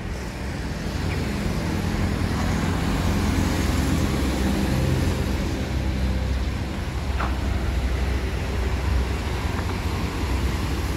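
Morning road traffic with cargo trucks in Aceh, heard as a continuous broad roar of engines and tyres on the road, steady and moderately loud throughout with no speech.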